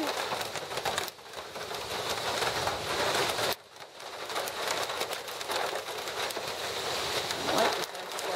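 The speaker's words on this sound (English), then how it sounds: "And here comes the rain." Rain starting to fall during a spring storm, a broad steady hiss of drops on surfaces mixed with gusting wind, with birds cooing faintly in the background.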